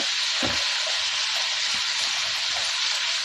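Long brinjal pieces frying in oil over a low flame for vangibath, a steady loud hiss and sizzle throughout with a few soft thuds of stirring.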